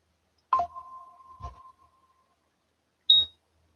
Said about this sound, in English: And there's the Cisco alarm.